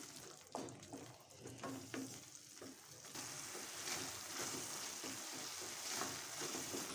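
Garam masala, chilli powder and turmeric are stirred into paneer gravy in a pan, giving a faint, close scraping and soft sizzle with irregular spoon knocks.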